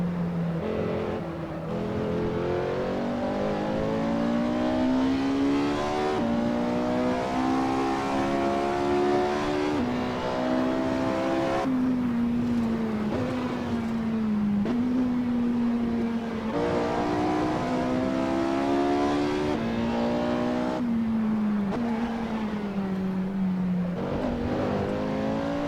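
Porsche 918 driven in the video game Assetto Corsa, its engine climbing in pitch through repeated rising revs, each broken by a gearshift drop, loud and continuous with no talk.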